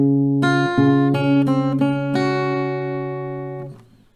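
An acoustic guitar plays the C part of a song as a string of about six plucked notes, close and clean, each ringing into the next before the last one fades out, with no voices.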